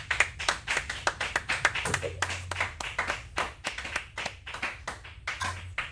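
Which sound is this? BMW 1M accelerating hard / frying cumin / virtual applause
virtual applause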